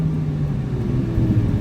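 A Ferrari 458 engine holds a steady, close, throaty drone for a moment, with no distinct gear change standing out.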